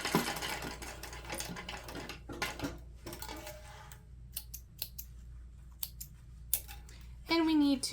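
A sewing machine runs in quick bursts stitching across a zipper end on a small boxy pouch, rattling near and moderately loud, broken by brief pauses and clicks.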